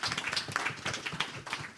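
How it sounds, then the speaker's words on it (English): Audience applause, a short burst of quiet, scattered clapping from a small group, with the individual claps clearly separate. "So round of applause for them"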